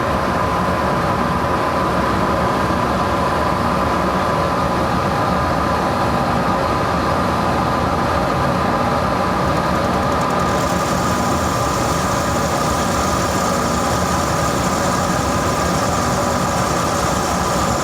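Monarch 10EE lathe turning a raw cast steam locomotive driver wheel, a steady loud mechanical drone with a cutting hiss that shifts partway through, with no voices.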